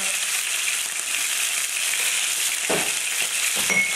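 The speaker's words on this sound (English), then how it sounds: "The oil spluttering away, which is good" Oil spits and crackles steadily around steak frying in a hot pan, a dense close sizzle with a few louder pops toward the end and no voices.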